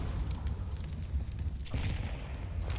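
A grenade detonates in Counter-Strike on the Inferno map, a heavy low boom rumbling through the whole stretch with a second surge partway in, heard alone without talk.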